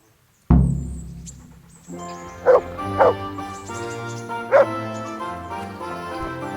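A dog in the medieval role-playing video game Kingdom Come: Deliverance gives three short yips amid a soft musical soundtrack, after an abrupt opening thud.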